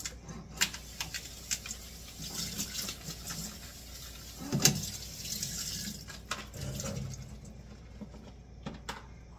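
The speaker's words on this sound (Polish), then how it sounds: "Myję truskawki." Tap water runs steadily into a sink while fresh strawberries are rinsed by hand, with a continuous splashing hiss broken by small knocks and clatters close by.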